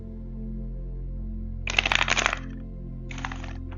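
Tarot cards are shuffled in a short, close burst of riffling flutters, followed a moment later by a softer second brush of cards being drawn over a quiet low hum.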